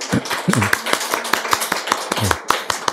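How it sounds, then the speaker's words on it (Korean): A church congregation at a Korean Thanksgiving service claps to welcome a visitor. The hands give sparse, fairly close claps in an uneven rhythm, and voices murmur between them. "환영하는 박수와 함께 하겠습니다"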